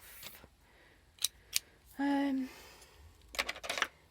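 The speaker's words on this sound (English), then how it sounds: "it probably would be better if I cut it with the scissors" A few sharp snips of scissors cutting felt, close by, with a short hummed tone between them and a final cluster of quick cuts.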